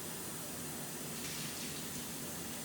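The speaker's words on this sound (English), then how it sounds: "And I'm gonna let it sit and run under the hot water for a little bit." Hot water runs steadily from a tap over a jar while grape jam is being made, a constant loud close gush of flowing water with no voices.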